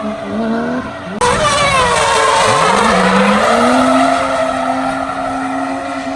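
A Toyota Cresta JZX100 drifting, its tires skidding in a loud, sustained squeal over a revving engine, close and unbroken after a sharp onset, no talk.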